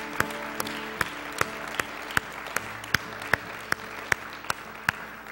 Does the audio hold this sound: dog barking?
no